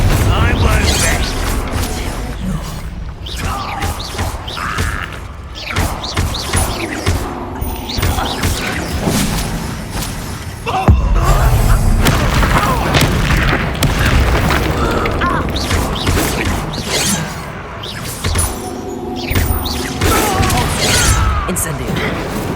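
Fire spell cast in the Hogwarts Legacy video game, heard as repeated booming magical blasts and crashing impacts with whooshes, loud and dense throughout, with a sharper surge midway.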